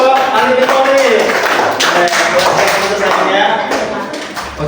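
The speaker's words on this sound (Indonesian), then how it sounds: "Tepuk tangan dulu kelompok Ali bin Thalib" A classroom of students claps for a student group during an Islamic religious education lesson, the claps loud and busy alongside overlapping voices and chatter.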